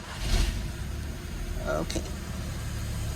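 A third-generation facelift SEAT Leon ST estate car starts and settles into a low, steady idle rumble, with a brief mechanical whir partway through and someone speaking briefly at the start.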